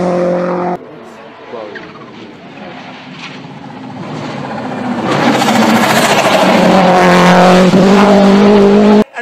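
Modified 600 hp Subaru WRX STI racing on the Isle of Man circuit: the engine note drops away, then builds into a loud, rising roar as the car nears and blasts past before cutting off abruptly.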